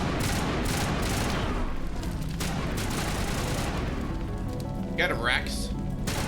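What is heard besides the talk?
gunfire shooting a wall in Mass Effect, a video game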